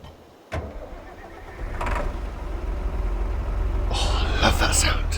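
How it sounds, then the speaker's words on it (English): Tractor engine in a farming video game cranking and firing up after a door-like thunk, settling into a low steady rumble with higher mechanical whines near the end. "I need to grab the tractor."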